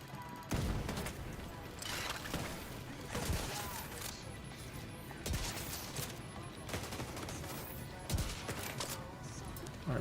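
Gunfire in The Division 2 during a firefight with a heavy gunner: sustained, dense shooting with sharp bursts and impacts repeating across the scene, loud and close, with no speech over it.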